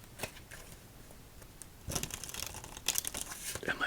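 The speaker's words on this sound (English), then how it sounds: "shuffles with some cuts." Playing cards shuffled and cut for a solitaire game, soft crisp riffles and taps close up, quiet at first and then busier bursts of flicking and snapping toward the end.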